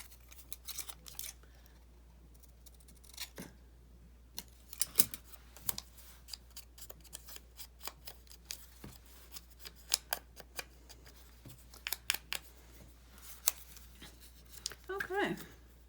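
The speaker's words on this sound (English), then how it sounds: "So I'm gonna snip the corners a little bit." Scissors snipping the corners of paper for a journal craft cluster, giving a series of small crisp cuts spread irregularly through the clip alongside light paper handling, with faint background hum.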